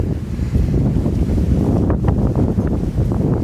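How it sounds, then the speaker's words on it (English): Strong wind gusting across a mountain trail on Cowrock Mountain along the Appalachian Trail in early November, a loud, continuous rumbling roar buffeting the microphone throughout. "Ooh, that's the wind."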